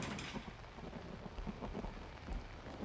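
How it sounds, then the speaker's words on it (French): Steady hiss of indoor fire sprinklers spraying water in a video game, a dense rain-like patter filling the whole stretch with no voices. "Il pleut qu'à l'intérieur, à l'endroit où il y a les extincteurs."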